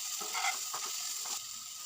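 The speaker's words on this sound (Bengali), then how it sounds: "এক চামচ জিরে ধনে গুঁড়ো দিয়ে এটাকে ভালো করে আমি কষিয়ে নেবো" Katla fish pieces sauté in a pan with chilli powder and cumin-coriander powder, giving a soft, continuous sizzle with a few brief stirring strokes, close and brief.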